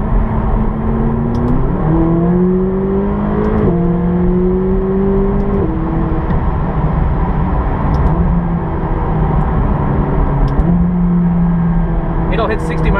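A McLaren 570GT's 3.8-liter twin-turbo V8 revs loud and close, its engine note climbing steadily and stepping through several gear changes under a constant rumble.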